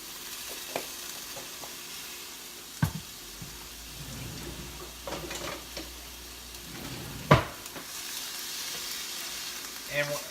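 Chopped onion and garlic frying in a pan, a steady soft sizzle running throughout with occasional louder clicks and stirring knocks, fairly close.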